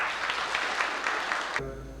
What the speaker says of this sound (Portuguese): eu peço agora uma salva de palmas para esses companheiros que ele passou